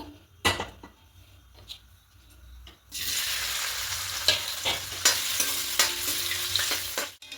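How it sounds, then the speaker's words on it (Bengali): Paneer drops into hot oil after a few quiet clicks and knocks, and a loud, steady sizzle bursts up and holds for the rest of the clip, broken by light utensil taps. "পনিরটাকে প্রথমে একটু হালকা করে লাল করে ভেজে নেব"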